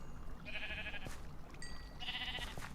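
Two short sheep bleats in the game Magicraft sound a second apart, thin and fairly quiet, with faint clicks and small effects between them.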